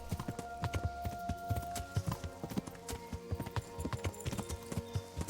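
Horse hooves clip-clopping in a steady trotting rhythm in the medieval game Kingdom Come: Deliverance, close and distinct, with a faint hum beneath.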